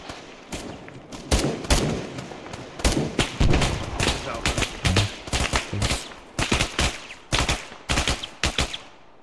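Rapid gunfire and explosive bursts in Arma 3, repeated sharp cracks in clustered volleys across the span, loud and close, with faint voices in between.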